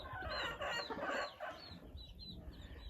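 Young chicks on a small home farm cheep and peep in a busy, close chorus of high, short calls, with some soft clucking and no talking.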